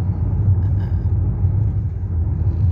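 Low, steady rumble of vehicle traffic on a hilly San Francisco street at dusk, a continuous dull engine and road drone with no distinct passing cars, no talking.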